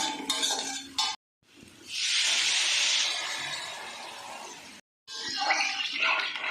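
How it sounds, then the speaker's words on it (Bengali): Water is poured into a hot pan of spiced prawn masala, setting off a loud burst of hissing steam that slowly fades. Brief cuts of near silence come before and after the hiss. "খুব ভালো করে কষানো হয়ে গেছে, এবার আমি জল দিয়ে দেব।"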